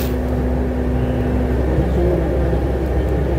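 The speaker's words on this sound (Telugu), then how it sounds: "ఇవాళైతే మానే ట్రాఫిక్ ఉంది" Road traffic near a Murugan temple makes a loud, steady low rumble of passing vehicles with constant engine drone and no clear breaks.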